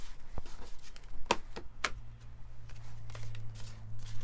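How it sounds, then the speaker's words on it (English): A small deck of tarot cards is shuffled by hand, giving soft scattered riffles and a couple of sharp card snaps over a low steady hum. No one speaks. "More shuffle."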